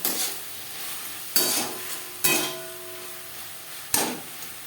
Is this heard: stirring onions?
yes